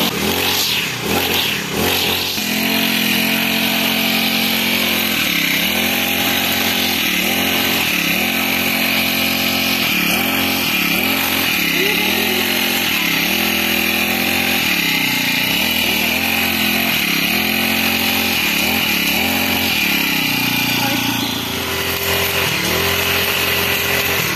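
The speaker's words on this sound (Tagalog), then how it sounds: "tatry naman natin paandarin yung makina." A small Honda GX35 two-stroke grass cutter engine sputters to life and runs loudly nearby, revving up and down repeatedly in a buzzing, rising and falling drone.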